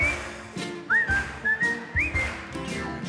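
A person whistles a bouncy melody of short rising and falling notes over music with a steady beat, at a Düsseldorf carnival show.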